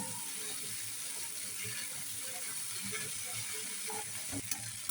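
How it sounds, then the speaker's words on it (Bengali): Boiled pasta stirred in a pan over the heat, a steady close sizzle and hiss throughout with faint scraping and clinks of the utensil, no speech. "পাস্তাগুলোকে নাড়িয়ে নিব।"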